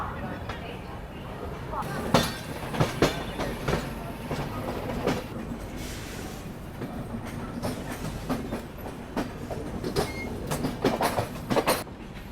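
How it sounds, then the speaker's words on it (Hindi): Shree Shakti AC Express train rolling on its rails from the inside, a continuous rumble with rhythmic clickety-clack wheel beats over track joints, while a person talks over it. "अभी हमारी ट्रेन निकल चुकी है पानीपत सोनीपत होते हुए दिल्ली की तरफ"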